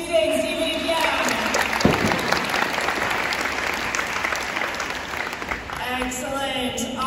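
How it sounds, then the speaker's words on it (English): An audience gives the Dean of Students a big round of applause at a college campus orientation, a dense, steady roar of many hands lasting several seconds, with voices rising through the crowd noise before it thins out. "One more big round of applause for your Dean of Students"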